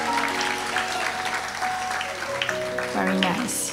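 Audience applause for Ashish fills a Hindu graduation ceremony at El Dorado South, a broad, steady clapping from a crowd that carries through the whole moment, with music and voices mixed in underneath.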